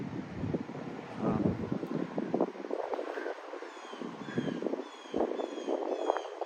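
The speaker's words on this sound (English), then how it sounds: "my microphone is facing into the wind that direction" Gusty wind buffets a microphone outdoors at a Long Island railroad station, with low rumbling bursts that rise and fade in irregular waves and brief lulls between them.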